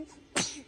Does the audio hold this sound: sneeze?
yes